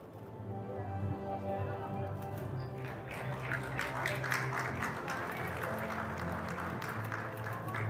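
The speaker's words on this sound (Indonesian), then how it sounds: "Kita berikan tepuk tangan dan aplaus yang meriah." An audience at a business forum gives a steady patter of applause that swells and carries on for several seconds. It sits at moderate distance over a low hum and faint background voices.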